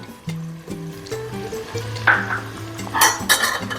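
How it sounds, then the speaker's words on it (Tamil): Sliced shallots and curry leaves fry in a pan while being stirred, giving a sizzle with scraping and clinks of a utensil against metal, close and loud, alongside steady tonal background sounds. "போட்டு இது பொன்னிறமாக வதக்கிக்கலாம்."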